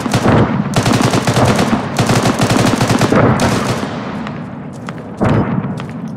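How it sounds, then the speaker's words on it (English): Gunfire in the Squad game with the MEE mod, during a mortar team's firefight: loud bursts of rapid automatic fire rattle in long strings close by, then break off, with one more sharp burst near the end. "Keep those mortars firing"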